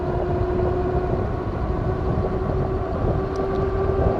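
A moped-style e-bike's electric motor whines steadily while riding, with a constant tonal hum over a broad rushing wind and road rumble, no voices present.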